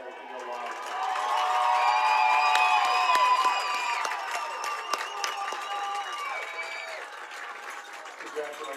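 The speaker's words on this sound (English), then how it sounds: "Now, if everyone would please give a round of applause for your" Crowd applause and cheering for the Harrisonville Wildcats after a high school soccer district championship, a swelling wash of clapping and shouts with high whistles and cries, heard outdoors at a distance.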